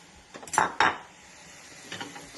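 Sausage going into a gumbo pot, heard as a few quick metallic clanks and scrapes of utensils against the pot, close and brief with a quieter clink near the end.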